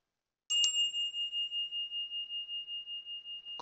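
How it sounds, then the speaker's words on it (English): A meditation bell is struck once and rings out with a clear, sustained, slowly pulsing tone that fades gradually, followed by a faint second strike at the end; no voices. "So here's a bell."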